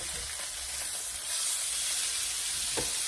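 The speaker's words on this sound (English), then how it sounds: "So our salmon has been cooking for about 3 minutes now, 4 minutes." Salmon sizzles in a pan, a close, continuous frying hiss that grows a bit louder midway, with a brief utensil knock near the end and no talk.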